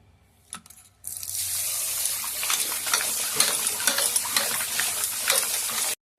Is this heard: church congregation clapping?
no